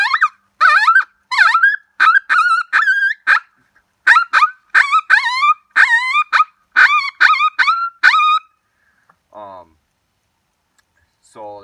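Open reed predator hand call blown to imitate pup distress: a series of loud, close, high whining yelps in quick bursts with short pauses, trailing off into a couple of fainter cries.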